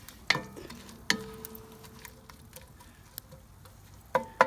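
Hot Italian sausage sizzling on a ceramic grill while being stirred, quiet crackling punctuated by a few sharp metallic clinks and scrapes at irregular intervals.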